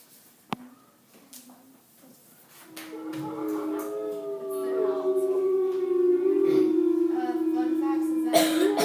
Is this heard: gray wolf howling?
yes